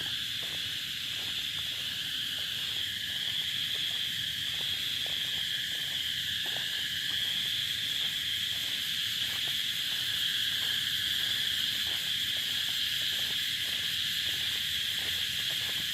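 A steady, loud insect drone of cicadas shrills throughout, with a rhythmic pulsing chirp layered underneath, no voices.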